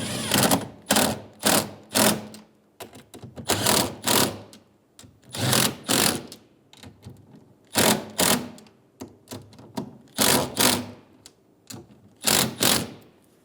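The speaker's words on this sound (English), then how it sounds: "Snug the nuts down." Nuts are snugged down with a ratchet while a side mirror is fitted to a 2007-2011 Toyota Camry. Repeated close, rattling bursts of clicking come in quick groups separated by short pauses.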